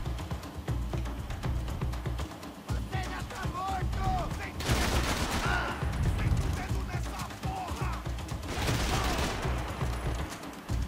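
Gunfire in the video game Max Payne 3, with dense overlapping shots and impacts forming a sustained fusillade that swells in two louder bursts. A voice talks intermittently underneath.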